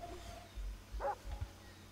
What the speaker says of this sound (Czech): to je někde pes